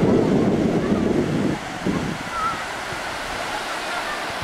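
Sea surf breaking and washing in, loud at first and then easing into a softer rushing wash with wind buffeting the microphone, and faint voices nearby.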